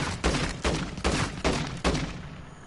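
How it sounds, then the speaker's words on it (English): Semi-automatic rifle shots in a PS4 video game, five evenly spaced, loud single reports with short decaying tails, one shot per trigger pull. "It's almost like an AR-15, one shot per trigger pull."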